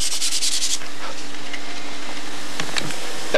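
Sandpaper working over filler on a model plane, a soft, close rubbing scrape that comes and goes in short strokes over a quiet background hum.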